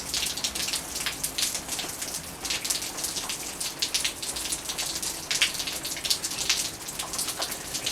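Steady rain pours down on a garden, a dense close patter of drops hitting leaves and surfaces that continues evenly throughout with no voices.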